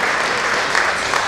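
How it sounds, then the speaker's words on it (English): Applause for the participants at a 2023 honor band concert fills the hall as a loud, dense, continuous clapping from a large audience. "let's give a big round of applause for our honor band participants"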